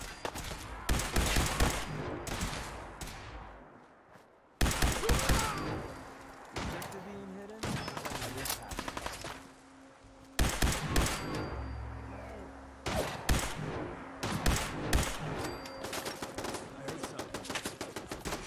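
A turret in Fallout 4 fires bursts of gunshots, loud repeated volleys broken by short pauses, with clanks and impacts between the bursts.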